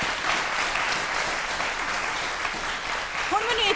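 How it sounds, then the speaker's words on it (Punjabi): Loud applause from a studio audience on a television chat show rolls on without a break, dense and close, with some voices mixed into the clapping. "ਇੱਕ ਵਾਰੀ ਜ਼ੋਰਦਾਰ ਤਾਲੀਆਂ ਨਾਲ ਬ੍ਰੇਕ।"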